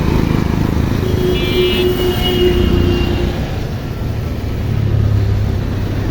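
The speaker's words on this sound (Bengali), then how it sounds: "বৃষ্টির দিনে রাস্তাঘাটে কী পরিমাণ ট্রাফিক আপনারা দেখতেই পাচ্ছেন" Steady roar of road traffic on a rainy day, with buses and other vehicles rumbling nearby in a constant, dense wash of engine and tyre noise and no talking.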